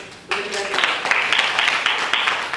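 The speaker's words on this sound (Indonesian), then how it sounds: "Tepuk tangan dulu." Students at an Islamic boarding school clap for a magic and hypnosis show, a burst of fairly close, continuous clapping that starts suddenly and holds steady with a few louder peaks.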